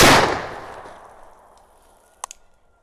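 A single loud shot from an 1886 Browning lever-action rifle in .45-70 Government opens the clip, its report rolling away outdoors. About two seconds later come two faint, quick metallic pings, like rounds striking steel targets downrange.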